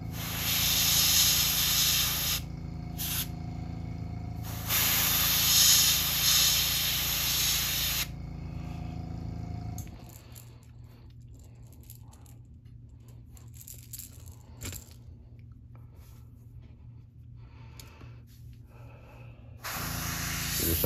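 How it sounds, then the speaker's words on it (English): An airbrush sprays paint onto a crankbait fishing lure, giving close, loud bursts of hiss that start and stop, the longest lasting several seconds, then quiet gaps and a fresh burst at the end. "Just have my airbrush."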